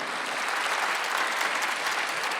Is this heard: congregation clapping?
yes